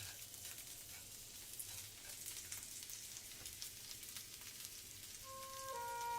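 Garlic and food frying in a pan on the highest heat, a steady crackling sizzle that grows louder toward the end, with faint tonal hum beneath and no talking.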